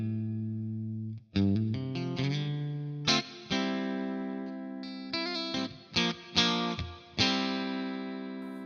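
Clean electric guitar through an amp modeler capturing a Fender '65 Twin Reverb, warm amp tone, playing sustained chords and short plucked phrases with effects, ringing out alone at moderate volume.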